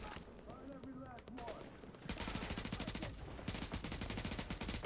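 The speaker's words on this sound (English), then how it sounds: "Why am I using my pistol?" Rapid gunfire in The Division video game, a dense burst of repeated shots starting midway and continuing to the end, loud against softer game sounds and a voice talking early on.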